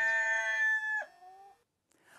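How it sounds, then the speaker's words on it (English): A rooster crows once, loud and close, its drawn-out harmonic call falling in pitch at the end before a brief quiet tail, heard alone without talk. "Peter denies Jesus 3 times and the rooster crows."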